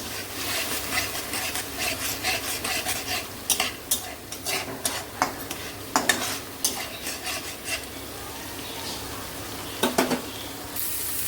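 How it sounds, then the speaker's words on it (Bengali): Spice paste for a Bengali fish curry with drumsticks is stir-fried in a pan, a low sizzle beneath repeated scraping and clattering strokes of a spatula against the pan, irregular and close, with no talking. "দিয়ে এবার কষাবো, যাতে মশলাটা পুড়ে না যায়"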